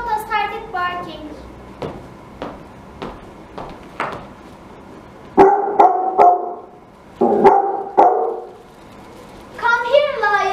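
In a children's stage drama of The Wizard of Oz, the little dog Toto barks in short bursts between children's voices, likely a performer imitating the barks.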